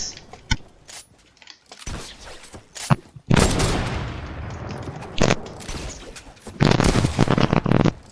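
Video game gunfire bursts out in sharp pops and heavy blasts, some rapid and clustered, with loud explosive stretches between brief quieter gaps.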